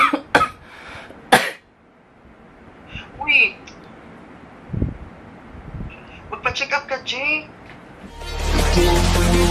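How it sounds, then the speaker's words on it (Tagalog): Several sharp coughs at home come in bursts, first a loud pair and a single, then a quicker run of smaller coughs later, mixed with short spoken words and a burst of wind-like noise near the end. "Naubo na nga ako"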